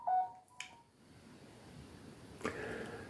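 A short telephone tone beeps at the start, followed by faint clicks and quiet background hiss, with another brief click later.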